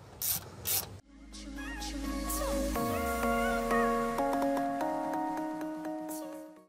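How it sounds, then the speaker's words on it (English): A 3/8 ratchet works studs out during a transmission and clutch job on a Cummins ISX15 truck engine, giving a close, sustained metallic grinding and ringing with squeaky tonal rubbing after a couple of brief bumps at the start. "take a 3/8 and take these studs out"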